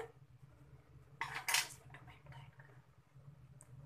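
A metal utensil clinks and scrapes against a pan while salted vegetables for aloo matar sabzi are sautéed, with a brief louder burst of stirring in the middle and quieter scraping around it.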